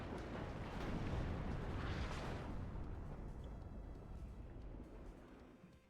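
Artillery fire in the war strategy game WARNO rolls out as a deep, heavy rumble of blasts that swells early, then slowly fades away.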